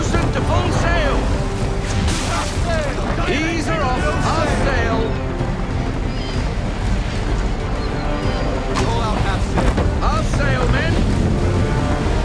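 A sailing ship in the Assassin's Creed III video game surges through open water, with loud continuous rushing waves, splashing and wind. Voices talk intermittently over it.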